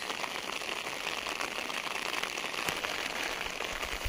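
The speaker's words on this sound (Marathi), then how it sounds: "पाऊस येतोय" Steady rain falls and patters on a surface, a dense, even hiss with faint scattered drops throughout.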